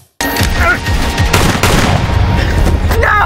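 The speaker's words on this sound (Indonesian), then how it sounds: "Donald yang melihat itu pun dengan cepat melepaskan 2 kali tembakan ke tubuh The Protean" Gunfire in a tense scene from the crime TV series Blacklist: a loud burst of sharp shots and rapid cracks erupts after a brief silence, with reverberant booms trailing through the rest of the scene.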